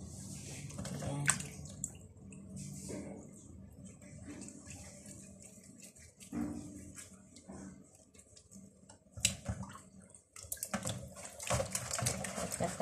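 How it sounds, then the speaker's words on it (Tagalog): Zubaidi fish is rinsed under running water after lemon, with uneven splashing, trickling and handling knocks at a sink, fairly faint and close. "Hugasan ulit kasi mapait yung lemon."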